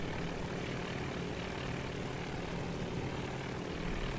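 Propeller aircraft engines droning in the naval strike game Task Force Admiral, a steady, low, distant hum that holds evenly throughout without voices.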